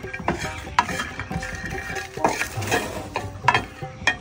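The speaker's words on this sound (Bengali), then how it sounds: "শুকনো মরিচ আর রসুন ভাজা শেষ।" Dried chilies and garlic dry-fry in an oil-free pan, with scraping stirs and clinking utensil knocks in an irregular rhythm up close and no voices.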